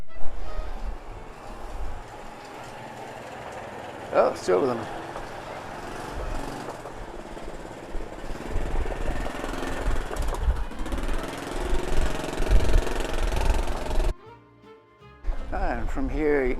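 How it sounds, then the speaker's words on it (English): A motorbike passes close by on a narrow island path, its engine rumbling up and fading over several seconds, with people talking over it and background noise throughout. "Yes, that man with his motorbike."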